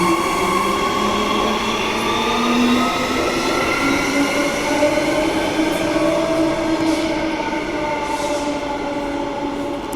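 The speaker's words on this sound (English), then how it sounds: "our platform 2 train leaving now express to Elizabeth Quay sidings" Express train pulling out of platform 2 on the line toward Elizabeth Quay sidings, a steady loud rolling rumble with rising motor whine and faint wheel squeal, heard close and continuous without talk.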